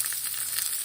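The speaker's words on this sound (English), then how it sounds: "Now I'm adding ginger, garlic and onion, everything together." Ginger, garlic and onion hit a hot oiled pan on low heat while cooking shahi paneer, giving a steady, bright sizzle with a few soft pops, close and even throughout the short moment.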